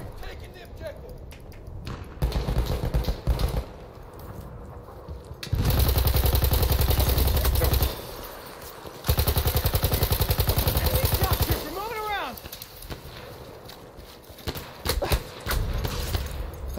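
Gunfire in Battlefield 1 comes in loud sustained machine-gun bursts and scattered shots amid battlefield noise, with a few shouted voices in between.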